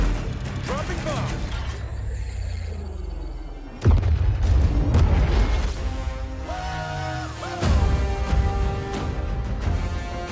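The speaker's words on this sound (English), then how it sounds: "Dropping bomb." Bombs exploding in Call of Duty Vanguard, two heavy booming blasts with crashing debris over battle noise and a voice talking.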